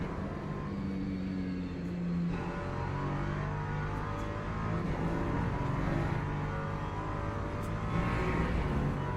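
LMP2 race cars at Silverstone in a racing video game roar past with a steady, loud engine drone and shifting revs, continuous engine noise throughout with no talking.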